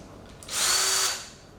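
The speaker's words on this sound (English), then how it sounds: "this cordless drill" A 20-volt cordless drill spins up alone for about half a second, a loud steady high whine that swells and then winds down.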